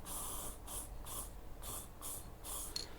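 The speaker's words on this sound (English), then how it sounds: "Keep it moving on the spray can." A can of PlastiKote woodstove spray paint hisses in about seven short bursts onto a rusty fire pit, each a sharp spray separated by brief pauses, close and fairly quiet.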